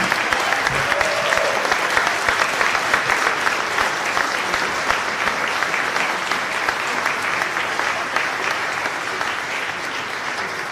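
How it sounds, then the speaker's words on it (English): A large audience in Miami gives sustained, loud applause for the President of the United States, dense clapping holding steady for about ten seconds with no letup. "We round of applause for President of the United States of America."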